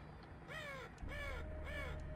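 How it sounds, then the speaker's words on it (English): Three harsh crow caws from a dark horror video game, Nightmare House, sounding in evenly spaced bursts over a low ambient drone, fairly close and clear, with no talking. "Birds."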